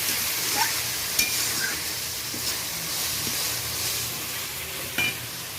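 Ground coriander, cumin, chili and turmeric being sautéed in a pan for a magur fish curry, a steady close sizzle with soft stirring scrapes and a few faint clicks, no voices.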